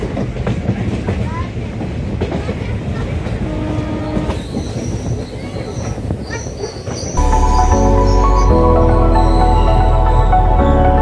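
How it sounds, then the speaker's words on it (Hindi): A passenger train rolls onward after leaving Sahebganj station, heard from on board: loud, close wheel clatter and rumble, with a heavy steady drone building in the second half. "हमारी ट्रेन खुल चुकी है"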